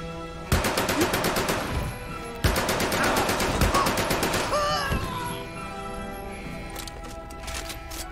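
MP40 submachine gun firing in the VR game Medal of Honor: Above & Beyond, two rapid loud automatic bursts at close range, each lasting about one to two seconds, then fading into lighter background clatter.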